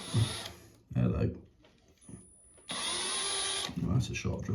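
A tiny, sharp drill bit bores into a drained radiator in one steady, high-pitched whirring burst of about a second, with people talking close by before and after it.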